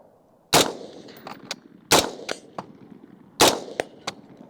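Rifle shots ring off a steel popper target on a shooting range, three sharp loud bangs spaced about one and a half seconds apart, each followed by a bright metallic clang and short tail, with no talking.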